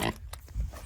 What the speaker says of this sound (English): Pigs are fun.